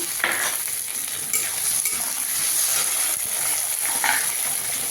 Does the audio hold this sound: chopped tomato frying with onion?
yes